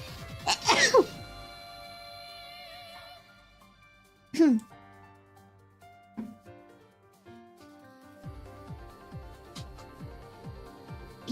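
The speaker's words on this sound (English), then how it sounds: "22 sneezes." Several sharp sneezes burst out in quick succession at the start, followed by single isolated sneezes spaced seconds apart over a quiet background with faint tonal sounds.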